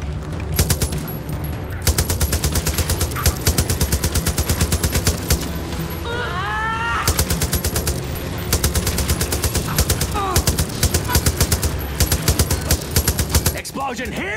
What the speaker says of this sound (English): Explosion here, explosion there!